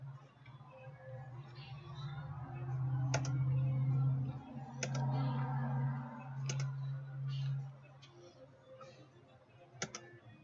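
Mouse clicks on the Windows taskbar during a Windows Server setup, a few sharp, soft ticks spaced seconds apart over a low steady hum, with faint scattered clicking in between.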